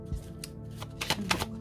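Tarot cards flipped and shuffled by hand during a Gemini autumn reading, a handful of soft papery flicks and slaps close to the mic, quiet and without talk.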